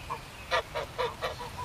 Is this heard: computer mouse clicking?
no